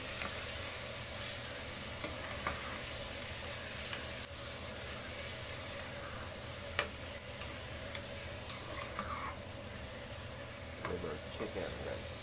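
Chicken liver frying in a pan, giving a continuous moderate sizzle with small pops and ticking crackles and a few sharper clicks.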